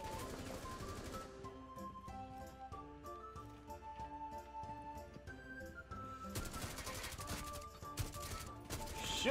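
Gunfire in Rainbow Six Siege during a Terrorist Hunt round, rapid shots rattling under tonal game music, quieter in the middle and swelling into a denser, louder burst toward the end.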